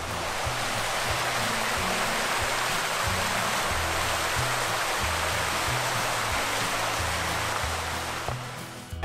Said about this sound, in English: You can tell you can tell it's a waterfall by the way it is.